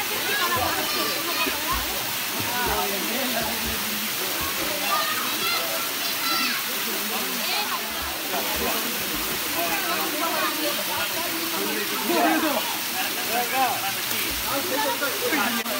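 Water cascading at the Kattazhagar temple falls in Tamil Nadu, a steady loud rush of falling water and splashing that continues throughout, with people talking over it.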